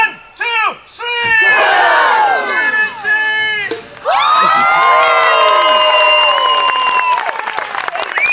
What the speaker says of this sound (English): on the count of 3, you yell my name